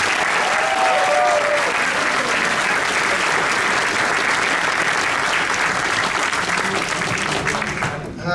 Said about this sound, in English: big round of applause for Gilligan